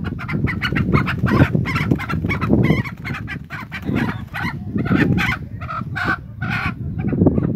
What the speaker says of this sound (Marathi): शिवण्या कोंबड्या डालती या.